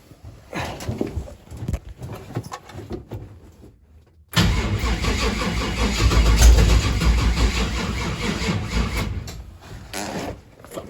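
A Chevrolet Nova engine, its distributor just adjusted, cranks with a few faltering turns, goes quiet, then catches and starts, settling into a loud, steady rumbling idle close by.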